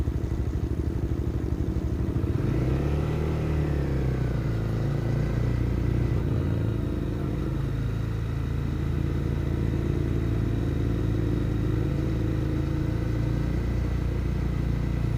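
A motorcycle engine drones continuously while riding around Sauvie Island, its pitch rising and falling as gears change, loud and close throughout with steady road and wind noise.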